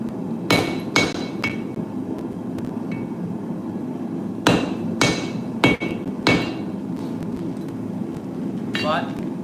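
A hammer strikes cable wire Damascus steel at a blacksmith's forge in sharp ringing blows, some in quick pairs and others spaced apart, with talking in the background.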